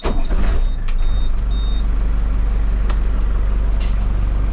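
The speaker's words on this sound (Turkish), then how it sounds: "M2000'le bir Çalıştıralım" The diesel engine of a Deutz Magirus M2000 bus cranks and catches, then settles into a loud, steady low idle close by. There are brief hisses and faint squeaks over the rumble, and no one talks.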